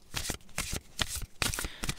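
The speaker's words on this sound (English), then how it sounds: "And I am shuffling," Oracle cards being shuffled by hand, close up: several quick riffling bursts of papery card flicks repeating in an uneven rhythm over two seconds, with no talking.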